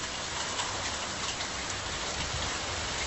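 Steady rain pours down in springtime California, a dense, even hiss of drops hitting surfaces throughout with no pauses, no voices and no thunder.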